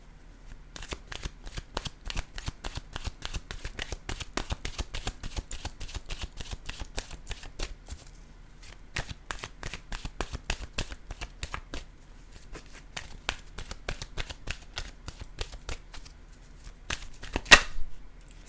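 A deck of oracle cards being shuffled by hand, repeated bursts of crisp riffling flutters close to the microphone with short pauses between runs, and a sharp snap near the end.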